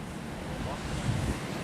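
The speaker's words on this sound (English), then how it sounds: "There's the ocean today." Ocean waves and wind on a stormy day make a steady, broad rushing roar with low rumbling surf and gusts buffeting the microphone, with no talking.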